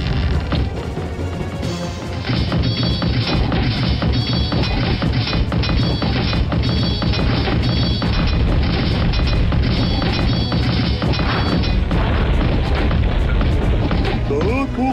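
Heavy booming crashes and rumbling explosions as a castle is destroyed in Warcraft II pile up over a dense game soundtrack, loud and continuous, like a structure being smashed apart.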